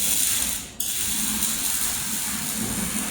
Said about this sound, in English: Now we attach the two parts together. So you'll fasten